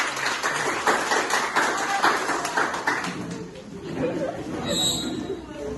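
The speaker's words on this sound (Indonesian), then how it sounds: "Oke, dan tepuk tangan untuk kita." A group claps their hands together in a school class activity. The clapping is quick and scattered for about three seconds and then fades, with chatter and voices talking throughout.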